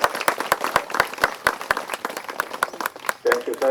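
Applause at an Ayyappa devotees' felicitation ceremony in Ballari, as guests are honoured with shawls: irregular sharp hand claps from a modest group, fairly close, with some voices mixed in and a brief vocal sound near the end.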